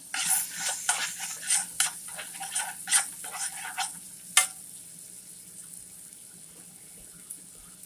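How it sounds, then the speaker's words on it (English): Chopped onion frying in a pan for mushroom soup, with a run of rhythmic scraping stirs and crackles over a low hiss, busy for the first four seconds then fading to a quiet sizzle. "you want to make sure these onions are caramelized"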